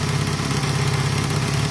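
A Honda CB250 motorcycle engine runs at a steady idle, close and even, with a constant low throb and no change in pace and no voices.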